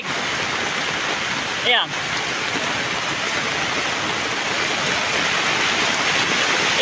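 Steady broadband roar of water rushing down from a mountaintop and rising quickly fills the clip, loud and continuous, with a brief spoken word partway through.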